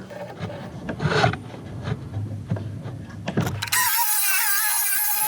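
Milwaukee power tool cutting through 1.5-inch birch marine grade plywood, rasping irregular scraping strokes followed by a sustained high whining cut, close and fairly loud.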